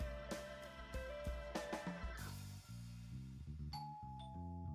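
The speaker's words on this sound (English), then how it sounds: "And that was when the doorbell rang." A ding-dong doorbell chime rings out twice near the end, over a steady backdrop of layered music, with no voices present.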